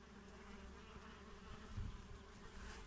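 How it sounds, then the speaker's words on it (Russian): Wild bees nesting in an old hive at an apiary buzz in a steady, low, continuous drone, fairly faint and close, with no voices over it. "Конкуренты пчел. Дикая пчела."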